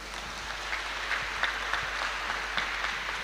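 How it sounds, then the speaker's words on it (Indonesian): An audience at a Christmas youth church celebration applauds with a steady, even patter of many hands that lasts for the whole stretch. "Tepuk tangan"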